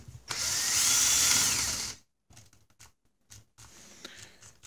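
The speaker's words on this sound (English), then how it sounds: "So I think we'll drill some holes and mount them in there." A cordless drill bores holes into a soft aluminium heatsink, one loud steady whine lasting about two seconds, followed by scattered clicks and handling noises.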